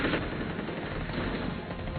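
Gunfire in a Tagalog-dubbed Hunter x Hunter anime episode rattles as a dense, continuous burst of rapid shots, loud and unbroken for the whole stretch, with no speech over it.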